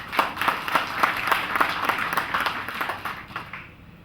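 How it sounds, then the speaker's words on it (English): Audience applause at the Huawei Mate 8 smartphone launch event, steady rhythmic clapping from a sizable crowd in a hall, fairly even in loudness before tapering off near the end. "I think that definitely deserves a round of applause."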